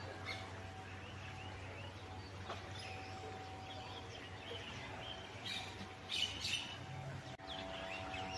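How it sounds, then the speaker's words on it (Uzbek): Birds singing outdoors along a quiet path in the Olmazor district, faint scattered chirps and tweets at a distance over a steady low background hum, with a brief louder burst of calls near the end. "qushlarning sayrashi."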